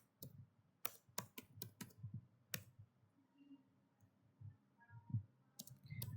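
Someone types on a computer keyboard while entering a discount formula, with clusters of crisp close key clicks separated by pauses and a faint steady hum underneath.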